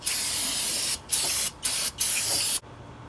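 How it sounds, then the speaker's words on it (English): Brake cleaner sprays onto the rear differential mating surface of a 2014-2018 GM 9.5-inch Silverado/Sierra axle in four close, loud hissing bursts separated by brief pauses, ending abruptly. "I'm just going to go over with some brake cleaner and then get all the grease off"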